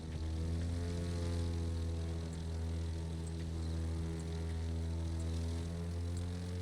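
Aeroplane engine in The Crew 2, a steady propeller drone with a strong low hum and stacked harmonic tones, holding loud and even throughout with only slight swells in pitch.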